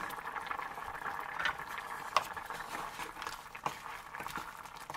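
Plantain simmers in water in a covered pot, a faint continuous bubbling with occasional soft pops and clicks.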